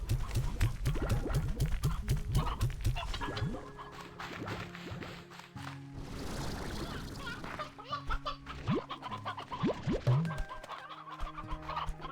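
Roosters in the video game Slime Rancher 2 cluck in quick rapid bursts, joined by scattered chirps, pops and gentle game tones, with several birds overlapping close by.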